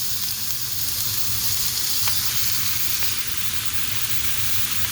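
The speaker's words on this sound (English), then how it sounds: "They'll give off a lot of fat, but let's cook these down." Thin slices of well-marbled steak for Philly cheesesteak fry in a pan with a steady, close, loud sizzle that holds throughout, with faint scraping near the middle.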